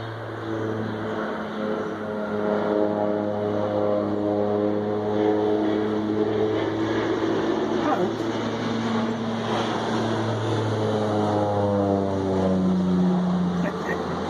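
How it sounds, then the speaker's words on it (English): A low-flying propeller crop-spray plane drones steadily overhead, its engine pitch sliding up and down as it passes low, loud and continuous throughout. "I don't often get buzzed by airplanes. It's just a spray plane"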